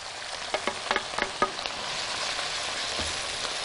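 Meat sears in a hot pan over high heat with a sprinkle of black pepper, a steady broadband sizzle with a burst of sharp crackles and pops early on that settles into a constant hiss.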